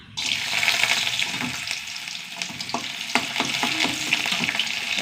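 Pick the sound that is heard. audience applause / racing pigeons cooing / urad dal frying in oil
urad dal frying in oil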